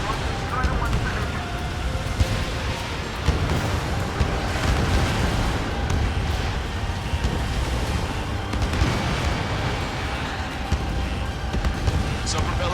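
In the Ace Combat 7 video game, a sub-propeller is blown apart amid continuous battle noise: dense rumbling blasts and booming impacts under radio chatter.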